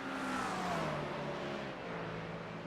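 GT3 race cars at Bathurst in a racing game, including an Acura and a McLaren, whine past in high revving tones that slide downward as they pass, fairly loud and with no talk.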